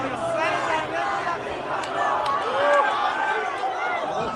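A large crowd gathered at an uprising in Karaj, Iran, roars and chants continuously, a dense mass of voices playing back at a moderate distance.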